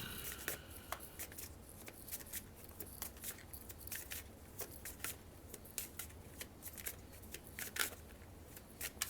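Tarot cards being shuffled, a steady run of soft riffling and sharp flicks repeating close by with no talking.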